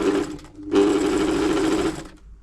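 A Borletti FB1102 sewing machine runs in close, loud, steady stitching bursts, a short run first, then a brief pause and a longer continuous run before the motor stops.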